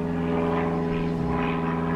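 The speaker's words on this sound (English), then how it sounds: "Oh, now we have an aeroplane. Oh, it sounds like an old one as well." An old propeller aeroplane drones overhead, a steady loud buzzing hum with a slowly swelling and fading pulse, heard alone with no talking.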